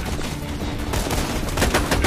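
Axton's mounted turret in the Borderlands 2 video game firing rapid, continuous automatic bursts, dense crackling gunfire with sharper shots toward the end, loud and close.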